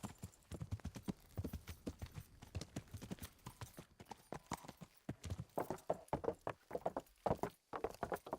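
Horse hooves clip-clop at a steady walking rhythm in the medieval role-playing game Kingdom Come: Deliverance, close and fairly loud, with a brief snort or whinny and no talking.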